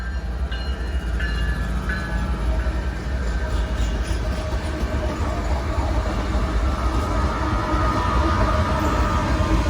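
Norfolk Southern freight train NS 265 departing Inman Yard in Atlanta, a loud continuous rumble of heavy locomotives and rolling cars with faint horn tones early on, close by and sustained throughout.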